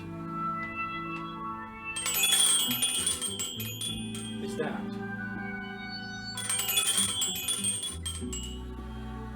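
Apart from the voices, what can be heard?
toy twirl wheel ball raking aluminum rods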